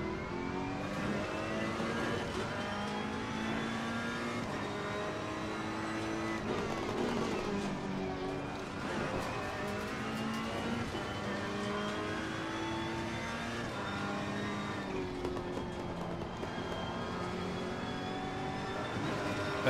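Ferrari 488 GT3 race car engine in Assetto Corsa Competizione at Barcelona, a loud sustained roar with repeated rising revs and gear shifts, continuous throughout with no talk.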